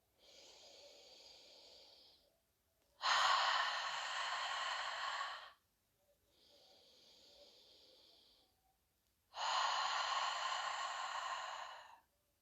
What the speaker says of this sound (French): À l'inspiration, tout le monde ensemble inspire.